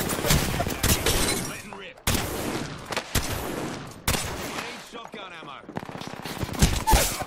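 Repeated shotgun blasts in a video game, loud sharp bursts spaced roughly a second apart, each trailing off with a rattling tail, with some talk between shots.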